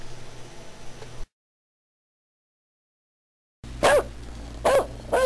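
A dog gives two or three sharp, loud barks close by, after a stretch of total silence, over a faint hissing static.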